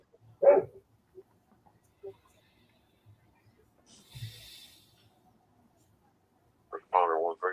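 A dog gives a few short, separate barks nearby in an otherwise quiet room, with a brief burst of radio static in the middle and a person talking at the end.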